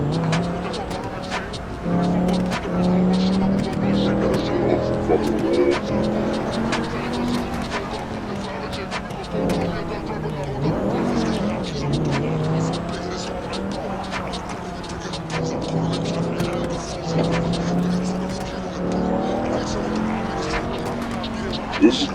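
Engines whine and shift pitch as cars race in a driving video game, with tire noise running steadily beneath people chatting throughout.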